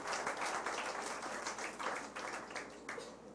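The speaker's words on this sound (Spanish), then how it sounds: "Dense un aplauso, gracias a Dios, hermano." A church congregation breaks into applause at a Good Friday memorial service, with steady clapping from many hands, somewhat distant and roomy, rising in bursts and lasting throughout.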